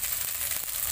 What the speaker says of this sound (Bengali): আদা রসুন কাঁচা লঙ্কা দিয়ে আমি হালকা ভেজে নিয়েছি।